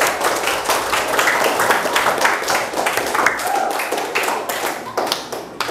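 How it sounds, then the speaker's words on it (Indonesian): A classroom applauds after a student presentation. A small group claps close by, with distinct individual hand claps forming an uneven patter that continues throughout. "Bagus. Tepuk tangan."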